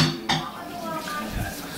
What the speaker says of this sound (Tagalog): Nagugas ako ng pinggan eh.